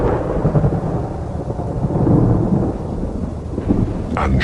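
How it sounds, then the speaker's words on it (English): Thunder rumbles through a heavy rain shower on the African savanna at the start of the rainy season, a loud continuous roar of downpour with deep rolling low booms. "And showers pour down onto the parched plains."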